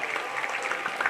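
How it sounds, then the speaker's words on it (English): Applause from an audience at a Living Arts Centre event for the earlier speakers, a steady, moderately distant wash of many hands clapping, with no voices over it. "Round of applause for the speakers you saw before me"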